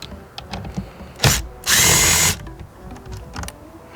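Power drill driving a T30 Torx bit to remove bolts on a BMW 1200RT motorcycle: a short whir, then a louder sustained burst of about a second, close up with light clicking and shop noise around it.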